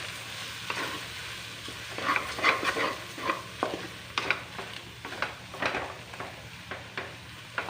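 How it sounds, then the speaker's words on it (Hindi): Spiced potatoes seasoned with amchur and black salt being stirred and fried in a pan, with steady sizzling and repeated scraping strokes of a spoon at an uneven rhythm, close and moderately loud, no talking. "अब हम आलू को भून लिए हैं।"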